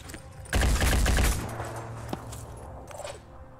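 A short, loud burst of rapid automatic gunfire rattles out in the Phoenix Point video game, then fades into a low tail with a single later crack, no speech over it.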